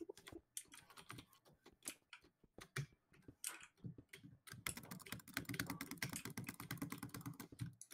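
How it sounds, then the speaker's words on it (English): Fingers tap a computer keyboard with irregular, crisp key clicks, sparse and spaced at first, then settling into a fast, dense run of typing, close and fairly quiet. "that's a lot of typing"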